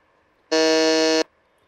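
A single loud, flat electronic quiz buzzer sounds for under a second, starting and stopping abruptly in otherwise quiet surroundings.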